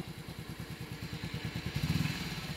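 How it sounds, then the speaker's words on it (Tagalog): A motorcycle engine under repair at a mechanic's shop revs lightly, a rapid pulsing putter that swells briefly louder before settling, fairly quiet and close with no talk. "Pakirev ng konti."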